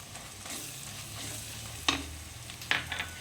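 Chicken gravy sizzles in a pan as turmeric, Kashmiri chili powder and garam masala are stirred in, a steady close frying hiss broken by two sharp scrapes or knocks of the spoon.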